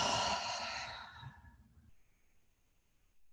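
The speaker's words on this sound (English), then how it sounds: "I'm just taking some deep breaths here" A single long, deep exhale during a yin yoga session, soft and close, trails off into near silence with a faint hiss.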